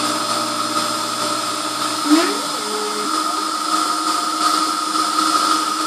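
An Emco F1 CNC milling machine drills 2.6 mm screw holes in a model engine backplate, giving a steady high motor whine with shifting tonal pitch as the drill engages, close and continuous.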